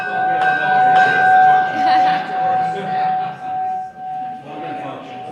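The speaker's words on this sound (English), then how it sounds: "We're trained to the bell." A bell rings with a sustained, clear ringing tone that holds steady for several seconds while people talk over it.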